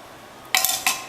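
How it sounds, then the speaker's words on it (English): Ginger rubbed on a small grater for a vegan raw green goddess dressing, two brief close scraping strokes after a quiet moment. "So we're just gonna grate this, and it just takes a second."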